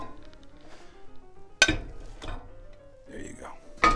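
An omelet pan lifted and handled in a kitchen gives a sharp metallic clank and a second bump, then another clank at the end, over a faint background murmur.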